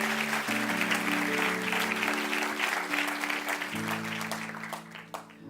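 Church congregation applauding during a sermon, steady dense clapping throughout with a sustained organ or keyboard chord underneath, tapering off near the end.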